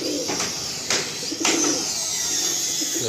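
A Kalanka high flying pigeon cooing softly in a few short repeated calls, close by, with faint handling noise and background hiss.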